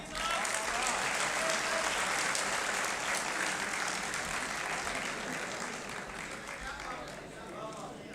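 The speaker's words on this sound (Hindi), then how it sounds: "भरपूर तालियों में इस्तकबाल कीजिए" An audience at a Multan mushaira welcomes a poet with sustained, dense applause heard from a distance. The clapping slowly thins and fades over several seconds, and scattered crowd voices mix in.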